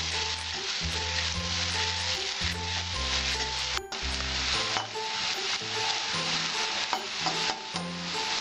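Onions fry in a pan until brown, with a steady close sizzle broken by rhythmic scraping stirs and an occasional metallic knock; no one talks.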